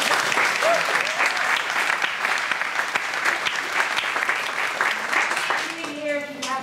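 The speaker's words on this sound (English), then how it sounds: "she does deserve a bit of applause" Theatre audience applauding after a play, a dense steady wash of many hands clapping close and loud for several seconds before thinning out at the end.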